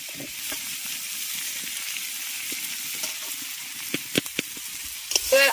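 Chopped onion, ginger and garlic fry in a steel pot for handi chicken, a steady low sizzle close by, with a few sharper scrapes and clinks of a spatula near the end; no one speaks.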